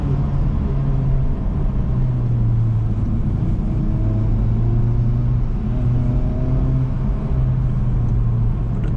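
A Honda Civic Type R FL5 with a 6-speed manual pulls steadily under acceleration on a road in Japan, its engine note a loud, continuous drone rising slowly in pitch inside the cabin, with no talking.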